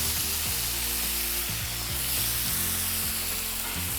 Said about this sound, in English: And then I'm going to go in with the green beans.